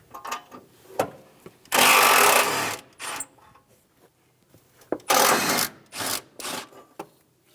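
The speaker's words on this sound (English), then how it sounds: "Using a 12mm socket, remove the 3 bolts around the battery tray." A ratchet with a 12mm socket spins out battery tray bolts on a 2003-2008 Honda Pilot, heard as several loud, rapid clicking bursts of about a second each, separated by quiet pauses and lighter single clicks.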